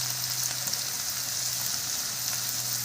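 Vegetables sautéing in a pan, a steady bright sizzle with a low hum underneath and faint occasional scrapes, heard alone.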